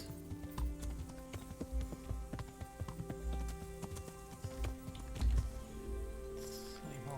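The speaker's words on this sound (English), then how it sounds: "Horse." Steady clip-clop of a horse's hooves trotting along in a medieval video game, rhythmic and fairly close, with faint background ambience and no talking.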